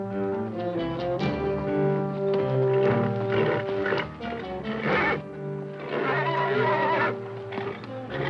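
A spooked horse in a Western cowboy film whinnies loudly and close, in long shrill neighs, with a second outburst after a brief pause over a low background.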